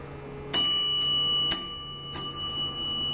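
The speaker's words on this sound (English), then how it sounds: "It's a loud bell." A hydraulic freight elevator at a shopping center sounds a loud bell, three sharp metallic strikes about a second apart, each ringing on with a bright sustained tone in a quiet car.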